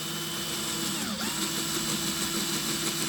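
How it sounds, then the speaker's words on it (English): An electric drill bores into a Hot Wheels die-cast toy car, a steady whirring motor hum with a brief pitch dip as the bit bites, close and alone. "So now that we got the drill bit in, we're going to go ahead and just go like this."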